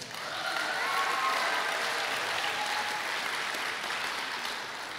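Audience applause at a Faith International University commencement ceremony, a dense steady clapping that swells in and holds at moderate loudness for several seconds, heard alone.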